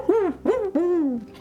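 A person's voice imitates an owl in three tonal hoots, the first two short and the last drawn out and wavering, close and clear with no other talk.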